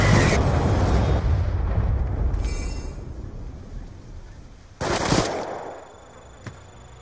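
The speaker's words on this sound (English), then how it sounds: "Friendly Hellstorm missile inbound." A Hellstorm missile strike booms in a multiplayer shooter match: a heavy rumbling blast opens, rolling explosions and rattling fire fade, then a second sharp impact hits before trailing off into a lower rumble.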